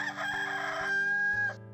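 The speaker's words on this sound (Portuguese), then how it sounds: "Galo acordou, hein?" A rooster crows loudly and close by, one drawn-out cock-a-doodle-doo lasting over a second, alone without talk.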